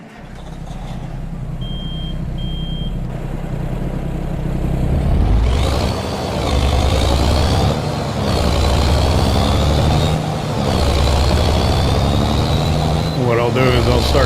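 A truck drives in Farming Simulator 22: a steady, loud engine drone with rumbling low end and shifting tones, starting with two short beeps. Talk can be heard over the engine for most of the stretch.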